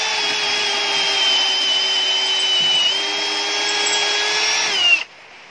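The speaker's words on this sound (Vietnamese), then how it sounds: "Mình sẽ vặn về cái lớp khoan thường này. Lớp khoan thường. Và để ở cấp số 1." A Milwaukee M18 cordless drill runs in regular drill mode at speed 1, a steady high-pitched motor whine held for several seconds with a slight dip midway before stopping sharply.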